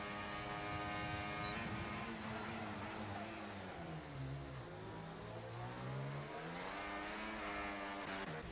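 McLaren race cars in a racing video game, engines whining and shifting pitch as they accelerate and lift, continuous and layered at a low level with no voices.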